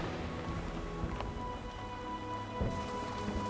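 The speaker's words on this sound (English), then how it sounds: "Heavy rain floods the plains in the dry season." Heavy rain pours over the Serengeti plains as a steady, even hiss of falling drops with no pauses, fairly soft overall and with no voices.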